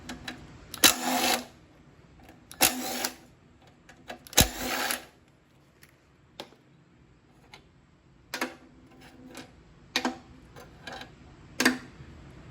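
An impact wrench fires in short bursts to remove bolts from a vintage 1974-75 Craftsman Eager-1 lawnmower's Tecumseh engine. About seven separate rattling hits come with quiet gaps between them.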